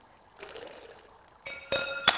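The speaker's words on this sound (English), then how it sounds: "I'm pouring liquid into it." Liquid is poured in the virtual reality game Waltz of the Wizard: a brief, soft pour swells into sharper splashes and glassy clinks near the end.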